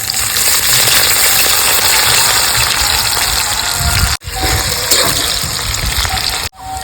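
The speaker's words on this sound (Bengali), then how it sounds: "এবার আমি অর্ধেকটা পেঁয়াজ দিয়ে দিচ্ছি তেলের ওপরে" Half an onion hits hot oil with whole spices and sets off a loud, dense sizzle that runs on steadily, broken by two brief drops where the frying sound cuts out for an instant.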